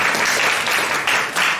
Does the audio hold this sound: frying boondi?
no